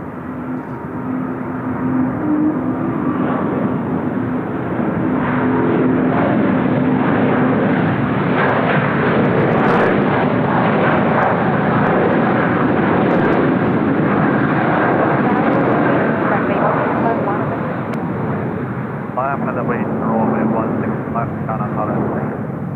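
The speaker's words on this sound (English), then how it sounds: "Asiana 350 on the roll now as well." Asiana Airbus A350 on its takeoff roll at Seoul Incheon Airport, a sustained loud jet-engine roar that holds steady, with a voice talking over it.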